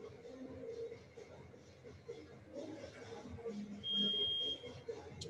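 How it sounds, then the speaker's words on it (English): A workout timer buzzer gives one steady electronic tone lasting about a second, sounding faintly over soft room noise and murmuring voices during a jump rope session. "that was our buzzer just to keep time so we know how long we've been doing our jump rope for"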